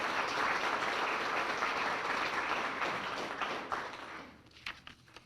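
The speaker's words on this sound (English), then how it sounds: "a round of applause for my board of directors." A room of diners at a chamber of commerce dinner applauds their board of directors, a broad sustained clapping that holds steady before thinning into a few scattered claps at the end.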